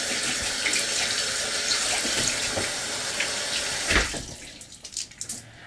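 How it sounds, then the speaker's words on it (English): Warm water runs from a shower tap in a steady, close rush that cuts off near the end, leaving a few scattered drips and splashes. "get warm water."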